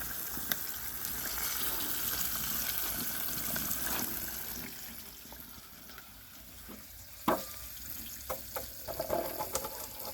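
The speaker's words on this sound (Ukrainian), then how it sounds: "Такий невеликий вогонь і вона собі помаленьку та й жариться." Steady crackling sizzle of small fish (capelin) frying over a small fire, with soft pops and clinks toward the end; no voices.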